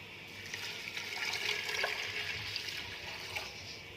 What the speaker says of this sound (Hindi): और साथ ही इसमें मैं पानी डाल दूंगी।